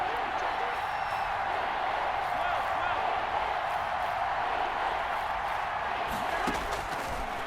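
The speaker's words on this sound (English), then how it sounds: "the crowd getting into it as we come up on a big third down" Stadium crowd in the football video game Madden NFL 21 roaring steadily ahead of a big third down, a dense continuous wash of cheering beneath an announcer's commentary.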